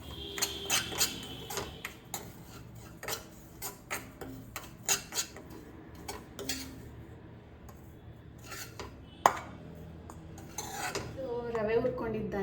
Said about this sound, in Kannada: ರವೆ ಆ್ಯಡ್ ಮಾಡ್ತಾಯಿದ್ದೀನಿ. ಸಿಮ್ಮಲ್ಲಿ ಇಟ್ಕೊಂಡು ಒಂದು 5 ನಿಮಿಷ ಫ್ರೈ ಮಾಡಿಕೊಂಡ್ರೆ ಸಾಕು